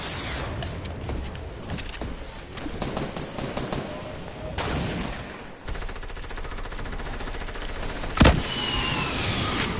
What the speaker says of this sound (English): What is everybody shooting at?